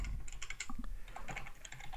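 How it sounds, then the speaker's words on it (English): Quick, close clicks of typing on a computer keyboard while entering Java code, with irregular bursts of keystrokes and short pauses over two seconds, no voices. "we're gonna type something more"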